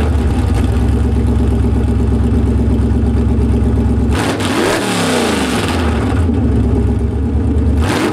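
A straight-piped Dodge Mirada with long-tube headers dumping right under the car revs loudly and up close, a steady rumbling exhaust that dips briefly partway through before climbing again, with no talking.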